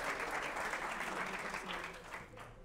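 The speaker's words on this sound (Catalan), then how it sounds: "aplaudim aquests 180 punts" Studio audience applause on a Catalan TV quiz show, a dense, even burst of many hands clapping that holds steady, then thins and fades toward the end.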